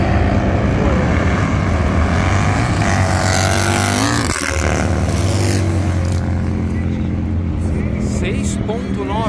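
A Harley-Davidson motorcycle roars past at speed on a timed run, its pitch sweeping as it goes by, with a surge of noise midway and a continuous rumble throughout.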